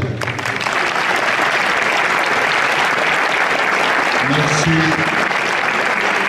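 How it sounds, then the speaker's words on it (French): An audience at a sports awards evening applauds its honoured athletes, a loud continuous roar of many clapping hands filling the room, with faint murmurs of voices surfacing near the end. "n'hésitez pas à applaudir donc, nos sportifs qui le méritent"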